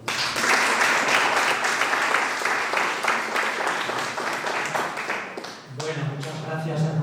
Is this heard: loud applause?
yes